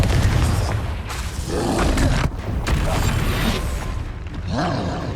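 Fiery Confringo spell blasts and Bombarda-style explosions from Hogwarts Legacy, loud booming roars that keep coming one after another, dense and rumbling with no quiet gaps.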